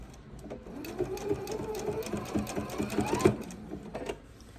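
A sewing machine runs steadily, stitching a seam on a fabric bowl cozy, its close, continuous whirring motor and needle chatter holding for several seconds before slowing near the end.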